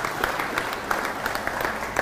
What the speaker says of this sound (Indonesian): tepuk tangannya masih banyak lagi nanti, jangan dihabiskan sekarang